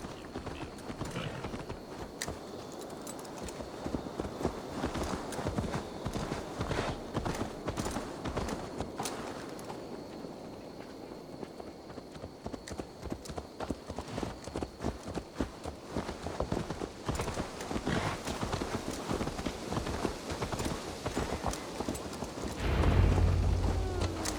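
Horse hooves clip-clopping steadily in Assassin's Creed Valhalla, a quick rhythmic patter of hoofbeats at moderate volume running throughout, with a brief low rumble at the end.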